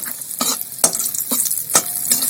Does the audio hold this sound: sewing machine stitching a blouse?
no